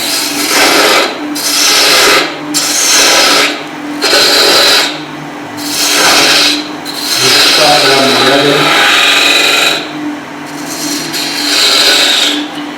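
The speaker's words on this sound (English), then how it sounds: "I've got now to an 1/2 inch spindle gouge." A half-inch spindle gouge cuts a wooden snowman on a lathe, giving a steady rasping hiss in repeated passes of about a second or two, broken by brief pauses.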